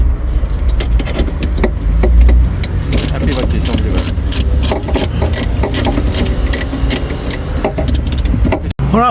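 Ratchet wrench clicking in rapid bursts as it tightens the 10 mm nut on the negative battery terminal of a Jaguar XE, close and loud, with light metallic clatter and no talking.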